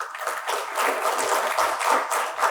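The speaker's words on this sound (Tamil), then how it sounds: "அதுக்கு மேல் நல்ல ஒரு கைத்தட்டு நம்ம கொடுக்கணும்." An audience claps steadily throughout, a dense, even wash of applause at a public event, with no talk over it.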